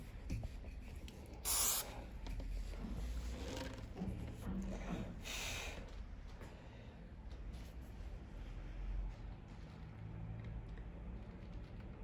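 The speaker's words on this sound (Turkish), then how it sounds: "spreyi sıkıyorum" Two short, faint hisses of an aerosol spray can used while repairing a bağlama with a broken neck, a few seconds apart, over a quiet low background rumble.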